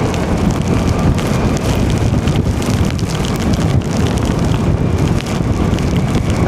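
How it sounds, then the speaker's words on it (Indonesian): Heavy rain and gusting wind batter a rider on the move, a loud, roaring rush with wind buffeting the microphone throughout and no speech. "Gede banget hujannya tuh di depan."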